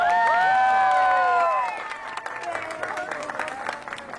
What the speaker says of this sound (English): them one more round of applause